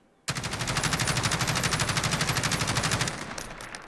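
An HK433 IAR automatic rifle in Call of Duty Modern Warfare opens up with a sudden start and holds one long, steady, rapid burst for about three seconds, loud and close, before cutting off into a brief fading tail.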